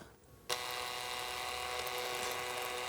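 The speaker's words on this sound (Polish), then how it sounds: "Robimy to małymi obrotami, dlatego że pamiętajcie, że nie wiercimy w metalu." A drill at low speed bores out a broken spark plug from an engine cylinder head, starting abruptly after a brief quiet moment and then whirring steadily and close up without talk.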